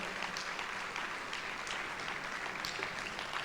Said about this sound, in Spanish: Usted no le puede dar un aplauso al Señor fuerte